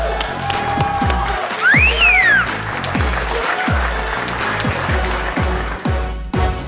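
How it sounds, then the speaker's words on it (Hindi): A television comedy show's studio audience claps and cheers to welcome a political guest. A swell of applause rises over a rhythmic music bed with thumping beats and a swooping tone, and the whole passage stays loud. "आप सबकी तालियों में please welcome mister Ali Zaidi"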